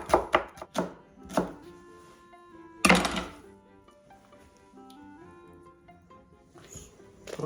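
A knife slices peppers into very thin strips on a cutting board: a quick burst of sharp chops at the start, one loud cut near the middle, and a few more at the end, with quiet tonal background in between.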